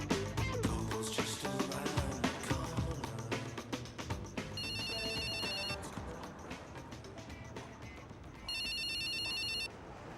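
A mobile phone ringtone chirps in two bursts of high repeating electronic beeps amid a tense, noisy film scene, with a loud clatter early on.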